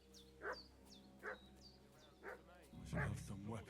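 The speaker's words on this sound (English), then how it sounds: "What's that dog making such a fuss about?" A dog in Kingdom Come: Deliverance II gives four evenly spaced barks from a moderate distance against a quiet game ambience, with a low voice murmuring under the last ones.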